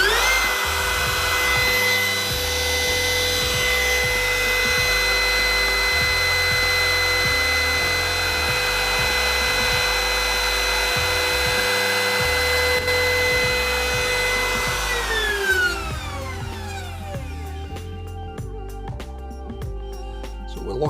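A wood router fluting a shaving brush handle on a jig whines at a high, steady pitch for a long stretch, then spins down with a falling tone near the end, loud and close with no talking.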